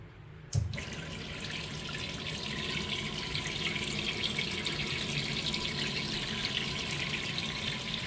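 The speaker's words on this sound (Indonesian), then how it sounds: "Ini keluar air terjun kayak gini." Water gushes steadily from a kitchen faucet into a sink after a brief click, a continuous close splashing rush that holds at an even level throughout.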